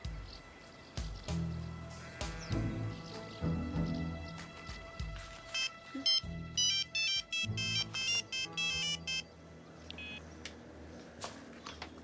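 A telephone rings in a rapid electronic trill, repeated in several bursts, after low thuds and movement sounds in a room, with the ring fairly loud and near.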